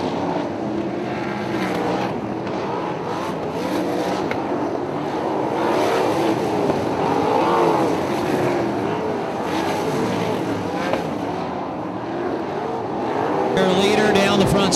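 Sprint cars in a feature race at Valley Speedway roar around the dirt oval, engines droning and swelling continuously as cars pass, with a louder surge near the end; a voice talks over the engine noise.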